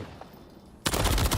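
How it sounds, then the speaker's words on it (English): Gunfire breaks out in a professional Call of Duty match, starting abruptly after a quiet moment with dense, loud rapid-fire shots that continue without a break until the end. "The first exchange of gunfire."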